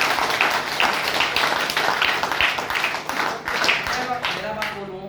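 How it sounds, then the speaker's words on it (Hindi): An audience at a meeting claps in a steady run of sharp, rapid hand claps with a voice carrying over them, then the clapping thins out toward the end. "तो आपके ऑफलाइन के लिए जोरदार ताली होना चाहिए।"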